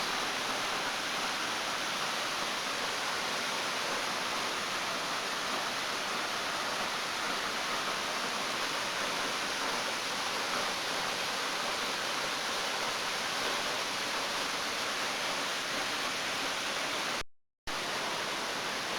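Steady, broadband rushing roar of Adeline Falls, a waterfall on a bushland creek walk below a cliff, continuous and fairly close with no voices, cutting off briefly near the end.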